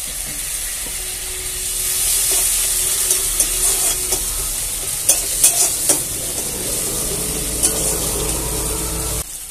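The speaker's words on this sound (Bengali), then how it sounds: "মশলা আর পেঁয়াজ ভালো করে কষিয়ে নেব।" Spices and onion sauté in a pan with a splash of water for a lentil and jute-leaf dish. A steady close sizzle and hiss carries on throughout, with occasional sharp spatula scrapes and taps before it cuts off at the end.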